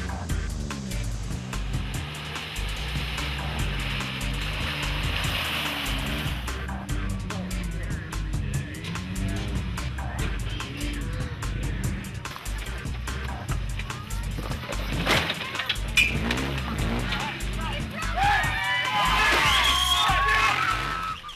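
A short-wheelbase Tracker truck pulls away at a truck challenge event while a crowd cheers and whoops, engine noise mixed with shouting that swells toward the end, with a commentator talking over it.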